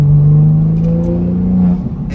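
A BMW G82 M4 fitted with a new aftermarket exhaust downshifts, giving a loud close droning engine note that holds steady, then breaks into rough burbling pops as it fades.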